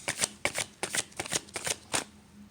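Tarot cards are shuffled by hand in a series of quick riffling bursts, about eight close, crisp flurries separated by short pauses, with no voice over them.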